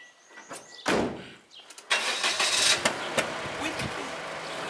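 A small Daihatsu Mira engine cranks and catches, then settles into a close idle after some door and handling clatter, with talk around it.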